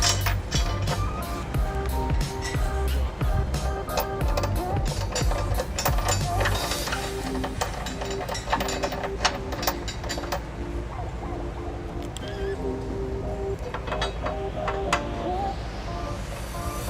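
A ratchet snugging a bolt through a trailer hitch into a weld nut on a 2001 Honda Odyssey, heard as quick steady clicking close up over a continuous mechanical background hum.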